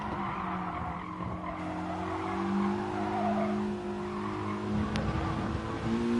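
Race cars in Gran Turismo skid and squeal their tires while engines drone steadily throughout, a loud, continuous stretch of tire noise and engine tones with no talking.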